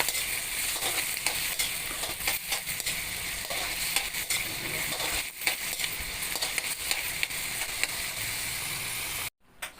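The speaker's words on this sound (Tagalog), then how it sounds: "lutuin muna natin sa margarine yung ating mushroom" Mushrooms fry in margarine, sizzling steadily up close while a utensil stirs and scrapes in irregular strokes, ending with a brief cut to silence near the end.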